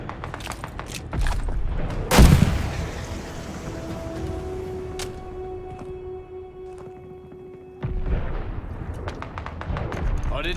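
A flare launches with a loud burst in a war video game, followed by a sustained whistling hiss as it climbs, set against battle noise and background clatter.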